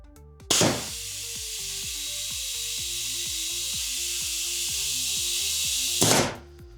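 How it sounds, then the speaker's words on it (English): A pulse welder lays a single spot weld on metal for a grave surround memorial, giving a steady bright hiss about five seconds long over a rhythmic low pulsing, nearby and without speech. "So it's pulsing at the same time. So there's one weld."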